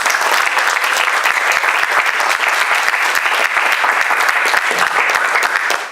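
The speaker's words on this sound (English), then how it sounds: "Please join me in giving a round of applause to the candidates." A crowd at a rent stabilization board candidate forum applauds the candidates, dense sustained clapping, loud and steady from start to finish before a quick fade.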